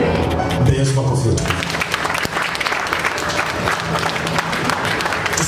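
A Swahili prayer congress congregation bursts into sustained applause for Jesus, dense clapping mixed with crowd voices and music, holding steady and fairly loud for several seconds.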